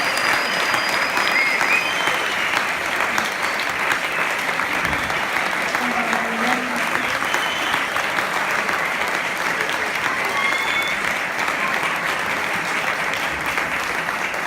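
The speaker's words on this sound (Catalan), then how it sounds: "Tenim la banda que crec que es mereixen un fort aplaudiment." An audience gives a band a long, sustained round of applause at a climate change event, a dense, even roar of clapping that carries on for over ten seconds with faint voices mixed in.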